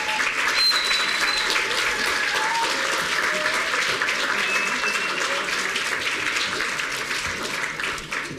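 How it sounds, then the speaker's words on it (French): A crowd applauds the candidates after their performance, steady dense clapping throughout that slowly tapers toward the end, with faint voices mixed in. "Allez, on les applaudit pour leur performance."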